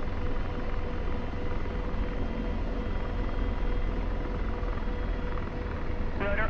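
Simulated AH-64D Apache helicopter rotor in DCS while hovering, a dense continuous thumping drone that holds steady and close throughout, with a brief electronic tone near the end.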